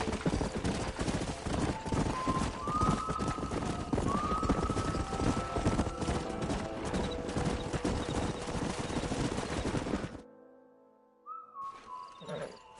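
Hooves clatter in fast galloping rhythm as horses run in the Red Dead Redemption video game, loud and continuous with rising whistles over the top, then the hoofbeats stop abruptly and only brief faint game sounds follow.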